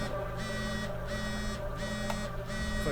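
A phone rings in the video game Another Paranormal Activity with repeated electronic trilling bursts separated by short pauses, steady and moderately loud over a low background hum.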